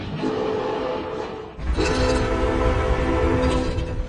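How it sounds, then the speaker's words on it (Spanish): A train passes with a rumbling roar, and a sustained horn-like whistle sounds through it, loud and steady throughout. "el silbato que escuchamos es el mismo, a pesar de que sea un modelo de tren diferente."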